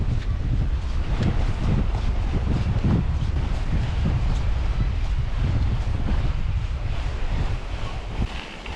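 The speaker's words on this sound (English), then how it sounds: "it's a bit windy for a beach day." Strong wind buffets the microphone in continuous gusty roars on a beach at Loch Morlich in the Cairngorms, with a faint wash of water behind it and no voices.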